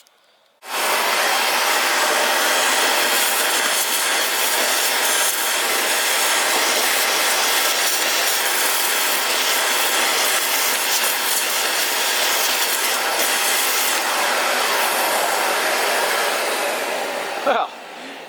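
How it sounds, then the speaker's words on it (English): A shop vacuum cleaner roars steadily and loudly as it sucks sand out of a Kawasaki KX500 dirt bike engine, starting abruptly and running at full power before cutting off near the end. "I'm gonna have to vacuum that out."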